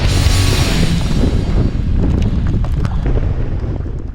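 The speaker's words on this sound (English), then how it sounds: "it was raining, it was hailing, and it was very windy outside." Strong wind roars loudly and continuously across a microphone on a mountaintop at a Colorado bike park in rain and hail, a dense buffeting rush with no voices.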